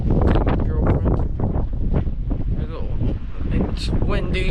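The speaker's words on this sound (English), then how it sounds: "It's windy. It is windy." Wind buffeting a microphone on a windy day in Geraldton, Australia, a loud continuous rumbling gust noise with people talking over it.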